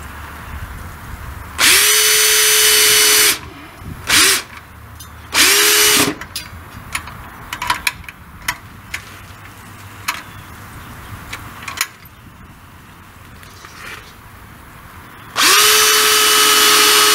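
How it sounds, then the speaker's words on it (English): Power drill driving screws to install hinges on a foldable wheelset for a miter saw: three loud whirring bursts with a rising pitch, then quiet clicks and handling taps, then a final drill burst. "So, okay, so now installing the hinges."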